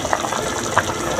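A pot of fish curry boiling on a stove, with a soft, steady bubbling and occasional louder gurgles, close and moderately quiet, with no talking.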